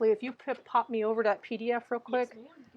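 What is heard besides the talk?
No everyday noise stands out behind the speech.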